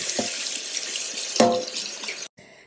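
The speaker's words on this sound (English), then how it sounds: "Rinse those bad boys off in some hot water." A tap runs steadily as berries are rinsed under hot water, with small splashes and shifts in the flow before the water cuts off abruptly near the end.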